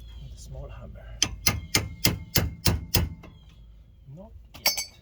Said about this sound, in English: With a small hammer.